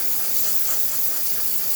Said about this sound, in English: really great steam coming out.